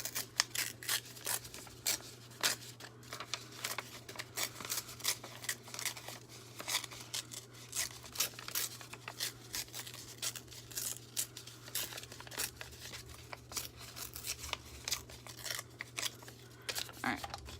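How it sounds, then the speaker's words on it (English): Paper is torn up by hand for a journal page, with repeated short rips and crinkling scrapes coming in irregular bursts over a low steady hum, near and fairly quiet, with no one talking. "let's tear this one up a little bit"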